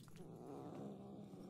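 A cat purrs in the video game Murdered: Soul Suspect, a low, steady rumbling purr heard close and alone, faint and continuous for a brief moment.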